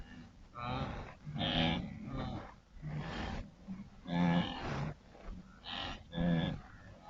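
A herd of cattle on the Serengeti, steers, heifers and rutting bulls, lowing and bellowing in overlapping, drawn-out moos, loud and close, with no talk.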